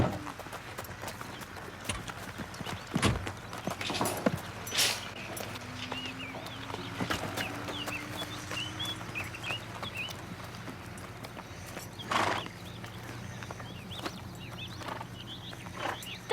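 Hooves clip-clop unevenly at a walk, moderately close, over a low rumbling background with occasional louder knocks.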